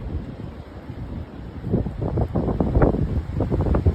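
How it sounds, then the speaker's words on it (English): Wind on the Oregon coast buffets the microphone in a steady low rumble that builds in gusts toward the end, loud and close, with no voices. "You hear that wind?"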